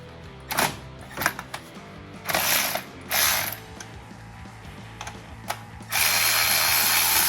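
Ratchet wrench backing out a bolt during a hybrid turbo install on an Audi B9 S5, heard as several short bursts of rapid clicking with pauses between them and a longer steady run at the end, close and fairly loud.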